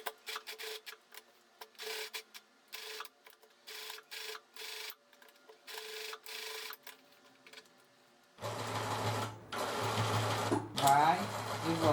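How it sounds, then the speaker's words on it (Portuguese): A sewing machine stitches straight seams on fabric with paper laid underneath, starting in short rhythmic bursts, then running loud and steady near the end. Someone talks between the runs. "Eu vou fazer 3 costurinhas reta, assim, uma do lado, outra do outro, outra no meio."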